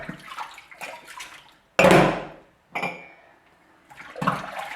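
Glasses and cups being washed by hand in a sink of lukewarm water without soap, with bursts of splashing and sloshing separated by short pauses, close by and fairly loud.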